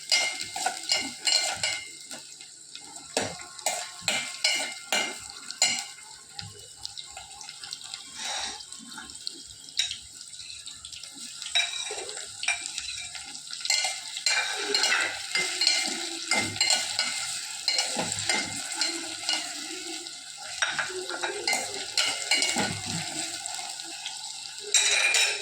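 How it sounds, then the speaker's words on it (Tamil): Onions sautéing and being stirred in a pan in a home kitchen: a continuous hissing sizzle with frequent scraping and clinking of a utensil against the pan throughout, no talking. "வெங்காயம் நல்லா வதங்கணும். அது வரைக்கும் வதக்கி"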